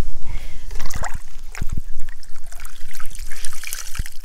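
Hand-washed colored clothes being wrung out over a tub, water trickling and splashing down in uneven dribbles and short bursts, close and fairly loud with no talking.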